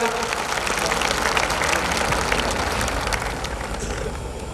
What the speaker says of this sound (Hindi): तो एक बार सभी बच्चों से अनुरोध है कि जोरदार तालियों से स्वागत करें इनका।